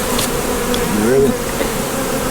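Steady, close buzzing of honey bees swarming around open hives as honey supers are added on a small Southern farm, a continuous drone.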